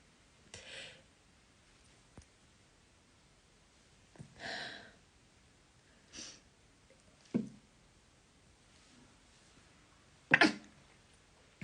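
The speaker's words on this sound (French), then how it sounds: "Je vais éternuer." A sneeze bursts out, loudest near the end, among several quieter sniffs and short breathy noises spread over a quiet stretch.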